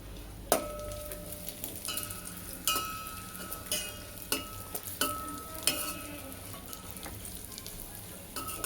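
Cashews, almonds and raisins stirred with rava in a pan over low heat for kheer: a steady soft sizzle broken by repeated sharp clinks and scrapes of a spoon against the pan, close up, with no talking.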